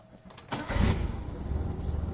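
Mitsubishi Lancer with a 4G13 engine that starts hard: a brief starter crank catches at about half a second, then the engine settles into a steady idle, close by with no talking.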